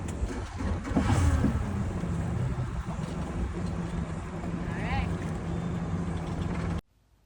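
An outboard motorboat engine runs steadily with wind and water noise, a faint voice briefly audible, before the sound cuts off abruptly near the end.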